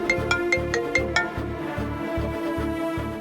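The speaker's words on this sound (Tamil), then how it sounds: "கார்த்திக்கு ஃபோன் பண்ணலாம்." A telephone rings in a quick repeating pattern of short electronic bursts, moderately loud and steady, with no talk over it.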